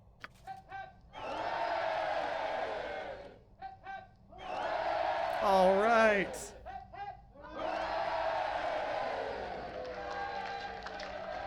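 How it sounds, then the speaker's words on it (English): A crowd in Baldur's Gate cheers and shouts in bursts between lines of dialogue, loud and sustained, with a brief musical flourish in the middle. "we get a little applause"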